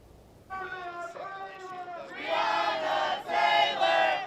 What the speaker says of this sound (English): Chants in the streets of downtown Louisville